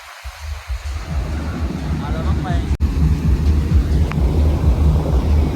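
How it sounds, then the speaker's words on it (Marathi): Rough sea waves surge at a Goa beach, a loud continuous rumbling wash under strong wind buffeting, with people talking over it. "लाटा खवलेला आहे समोर"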